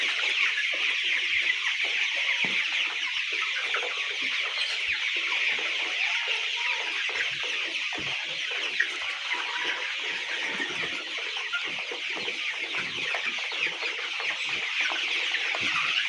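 Many chickens cluck and murmur together on a poultry farm, a dense, continuous flock chatter close by with no talk, steady throughout.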